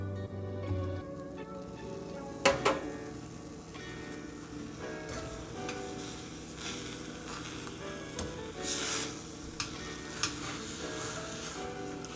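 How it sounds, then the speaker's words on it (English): Pineapple filling with sugar, brown sugar and lemon juice cooking in a pan, a soft steady sizzle with occasional stirring clinks and scrapes, close and unaccompanied by talk. "Now you want to cook this until it gets like a jelly state"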